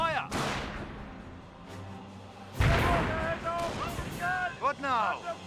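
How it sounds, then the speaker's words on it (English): Mortar fire in the Company of Heroes video game, a WWII real-time strategy battle; a few heavy booms and blasts amid battlefield noise, with a voice talking over them. "Mortar firing away."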